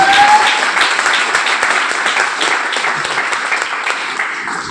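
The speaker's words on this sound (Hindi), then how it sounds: "मैं चाहूंगी कि एक बार जोरदार तालियां।" Loud, dense audience applause fills the whole stretch, a steady wash of many hands clapping at an event, with no talk on top.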